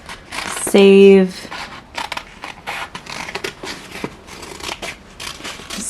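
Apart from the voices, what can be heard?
scissors trimming vinyl decal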